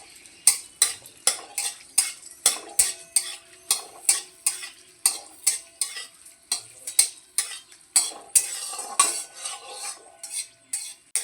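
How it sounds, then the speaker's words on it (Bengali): Three dried red chillies frying in hot mustard oil in a kadai, with quick, rhythmic spatula scrapes and clinks against the pan over a soft sizzle, close and steady with no talking. "লঙ্কাগুলো প্রথমে ভেজে নেব।"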